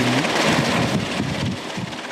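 An Apache attack helicopter roars during the Han Kuang military drill at Taoyuan airport, a loud, steady rotor and engine drone close by that eases slightly toward the end.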